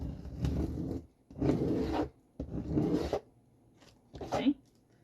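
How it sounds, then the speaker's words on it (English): A plastic scraper rasps across a Cricut cutting mat, pushing off leftover rhinestones in several short, close scraping strokes separated by brief pauses. "So just use the scraper and move them right along."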